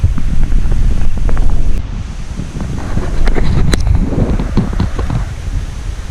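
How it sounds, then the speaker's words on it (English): Strong wind buffets the microphone in a constant low roar beside the River Trent at night, with gusts rising and easing and faint rustling underneath. "Still very windy though."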